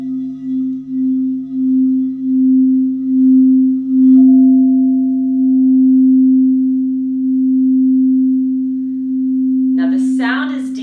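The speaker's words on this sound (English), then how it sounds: "This is a really big bowl here. Listen to the sound of this. This is 16 inches." A large 16-inch singing bowl rings with a deep, steady sustained tone, pulsing gently at first and then holding a long, smooth drone that slowly fades, with a brief voice entering at the very end.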